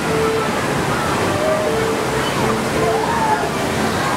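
Water showers spray at a theme park play area, a loud, continuous hissing splash of falling water with faint tonal sounds and voices blended in the background.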